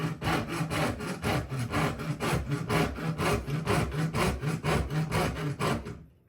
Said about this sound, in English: on the straight line, I just use this little handsaw I have.